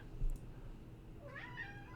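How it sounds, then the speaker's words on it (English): A cat meows a couple of times at moderate distance, soft rising cries over a low steady background hum. "There's a cat meowing."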